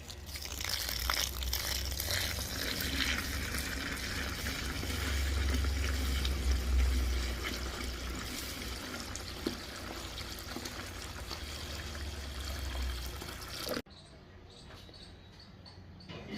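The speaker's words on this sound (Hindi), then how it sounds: "और अब हम इसमें पानी डाल रहे हैं।" Water poured steadily onto finely ground herbs for khameera marwareed, a long continuous splashing pour with crinkling, ending abruptly into a quieter hum.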